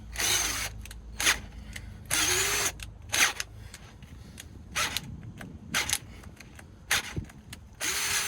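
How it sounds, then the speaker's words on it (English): Cheap electric drill boring with a large 9/16 bit while repairing a bolt hole on a Freightliner cabover, short bursts of whining motor and grinding cutting separated by pauses, close by. "This is a cheap drill too, so that might be part of the problem."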